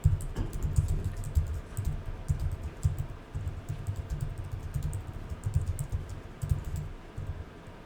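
Commands are typed on a computer keyboard in a steady, close run of rapid key clicks with brief pauses and no talking.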